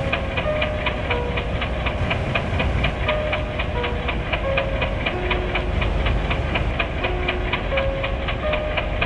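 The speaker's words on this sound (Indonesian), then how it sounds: "masinis pun menjalankan keretanya" Stop-motion miniature train departing a station, with a steady rapid ticking clatter over a continuous rumble and scattered short tonal squeals, loud and close, lasting several seconds without speech.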